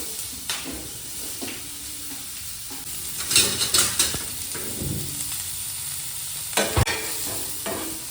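Onion, green chilli, ginger and garlic fry in a pan with a steady sizzle, while a spoon scrapes and stirs in short bursts close by.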